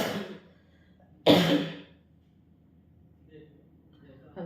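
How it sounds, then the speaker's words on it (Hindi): A man coughs: one short cough at the start, then a sharp, louder cough burst a little over a second in, followed by quiet breathing and faint room noise, close to the microphone. "मुझे थोड़ी खांसी है इस वक्त"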